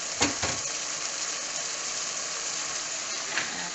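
Onion dropped into a hot pan with red pepper for a pork and cabbage stir-fry sizzles steadily and close, with a couple of soft stirring knocks near the start and one near the end.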